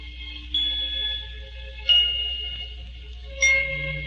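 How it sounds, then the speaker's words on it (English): Little orchestral bells are struck three times in a slow, evenly spaced sequence, each bright metallic ding ringing on and fading before the next strike, heard alone at close range. "Even the little bells are struck like this."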